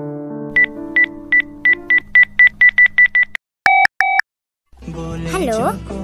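A telephone keypad dials a call: about a dozen evenly spaced beeping key tones, then two longer tones, followed by a voice at the end.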